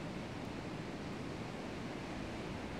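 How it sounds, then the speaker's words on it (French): Gentle ocean waves wash in a steady, soft broadband rush that stays even and unbroken throughout, with no voices over it. "le doux bruit des vagues"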